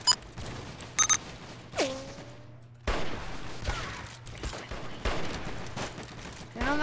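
Bursts of video-game gunfire from Roblox crack out in quick, uneven volleys, with several sharp reports and short gaps between them, fairly loud and close.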